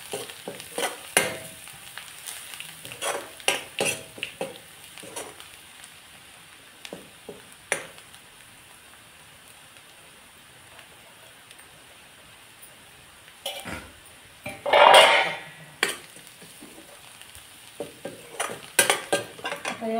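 Onion masala sautéing and being stirred in a pan for a Malvani oyster thali, with soft sizzling under intermittent spoon scrapes and clinks and a louder scraping burst partway through, no talking.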